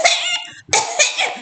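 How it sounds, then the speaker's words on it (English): Coughing men, coal miners hunched over in the cold, heard as two harsh, close coughing bursts separated by a brief pause. "They were constantly coughing"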